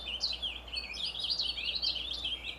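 A recorded songbird plays back from the Merlin bird ID app, a fairly faint run of bright chirps and warbled phrases over a low steady hum.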